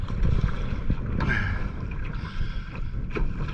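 Paddle strokes dip and pull through lake water beside a canoe in Sweden, close and continuous, with splashes and drips under wind buffeting the microphone.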